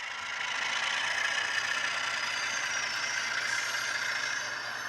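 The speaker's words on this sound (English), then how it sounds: "So here we have a little Penn Central train." An HO scale model Penn Central train with a Pennsylvania-prototype engine runs steadily past, a continuous mid-loud motor whir and rattle with no speech.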